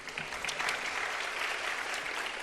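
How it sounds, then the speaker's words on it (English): A steady, dense round of audience clapping at a Bharatanatyam arangetram continues evenly throughout, bright and full with no voices on top. "Let us give Rahi another big round of applause"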